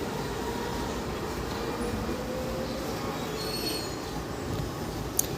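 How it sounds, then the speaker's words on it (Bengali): A crowded passenger train rolls steadily over a bridge beside a new rail line near a river, a continuous dense rumble of wheels with faint squeal and rattle, with no pauses and no talk over it. "আরেকটি ট্রেন যাচ্ছে ব্রিজের উপর দিয়ে"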